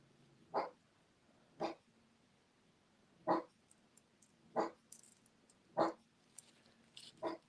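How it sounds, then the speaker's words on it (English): A dog barks six times in a slow, evenly spaced rhythm, somewhat distant and muffled, with quiet pauses between each bark. "He's probably barking at a leaf."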